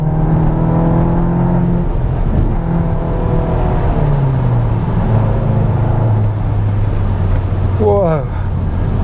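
A VW Arteon R Shooting Brake engine is driven hard around a circuit, giving a loud, steady droning drone with shifting pitch, rising and falling revs, and a sharp sweep near the end, with talking over it.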